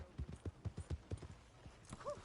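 Horse hooves clip-clop in a steady, fairly close rhythm in the Red Dead Redemption 2 video game, followed by a brief whinny-like call at the end, quietly mixed with no clear talk.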